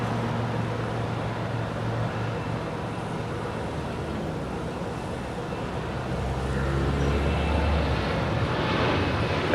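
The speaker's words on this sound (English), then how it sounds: "It's a 787-9 Dreamliner now rolling on 25 right." A United Airlines Boeing 787-9 Dreamliner rolls for takeoff on runway 25 right at LAX, its engines a low, distant drone that grows gradually louder over several seconds, mixed with faint surrounding traffic noise.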